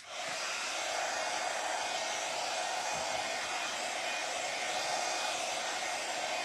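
Hair dryer blowing over a decoupage glasses case, a steady loud whooshing hiss that starts abruptly and holds constant throughout without any talking.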